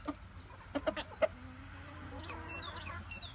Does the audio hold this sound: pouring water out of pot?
no